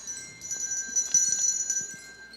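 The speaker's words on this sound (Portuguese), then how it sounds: "eu quero mostrar um outro tipo de sino" A bell rings with a high, sustained metallic tone, its shimmer steady and fairly faint, with a few soft taps underneath.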